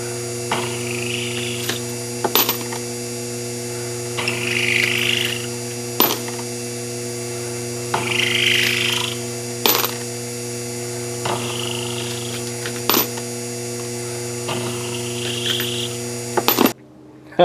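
A Henderson Precision Gen II powered case trimmer runs with a steady motor hum while brass cases are trimmed one after another, each with a brief grinding buzz and a sharp metallic clack as the case is set down.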